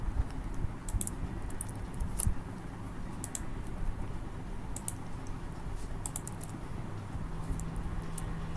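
Typing on a computer keyboard while writing HTML code for a website, rapid close key clicks in uneven bursts over a steady low hum, with no talk.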